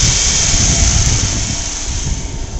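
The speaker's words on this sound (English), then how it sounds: "Motor sounds real nice." A 2008 Dodge Charger engine runs steadily at a salvage yard. A close, loud, even drone with a rough low rumble and no talk over it.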